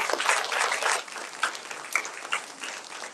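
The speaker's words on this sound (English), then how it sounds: "Please give a big round of applause for our teachers" Audience applause for teachers at a Samskrita Bharati annual day event in Frisco, a steady wash of clapping with a few louder claps standing out, moderately loud throughout.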